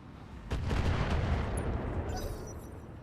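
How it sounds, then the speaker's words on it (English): Mortar fire in the Roguetech mech game, a faint, muffled boom landing with a rumbling wash that lingers and fades over a few seconds. "Okay, good mortars."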